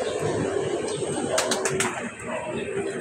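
Racing pigeons arriving at a home loft during a sprint race, with soft cooing and bird calls over a busy background, a few brief high chirps partway through and some distant voices.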